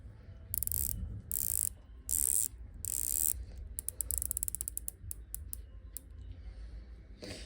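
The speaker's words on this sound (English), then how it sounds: "Have a listen to the bezel. Compare that to this one." Rotating bezels on a fake and a real Rolex Submariner ratchet around in quick close clicks, first in a few loud bursts and then as a fast even run of fine clicks, with no talk.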